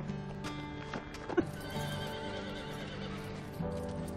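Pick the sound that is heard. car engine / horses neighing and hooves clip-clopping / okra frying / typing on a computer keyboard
horses neighing and hooves clip-clopping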